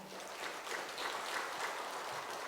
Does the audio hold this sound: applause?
yes